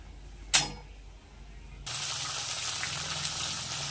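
Onions and green chillies dropped into hot oil in a pan: a brief clink, then a sudden loud burst of sizzling that holds steady and close, without talking.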